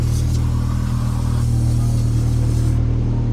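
Steady hiss of air escaping from an air suspension line beside the compressor on a Ford EF hatch, heard as a continuous close-up rush of noise with a low droning undertone and no pauses.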